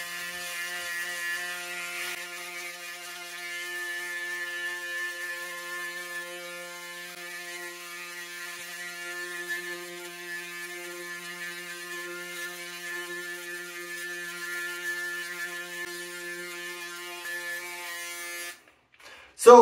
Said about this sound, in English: But I'm gonna finish shaving up this side of my face now.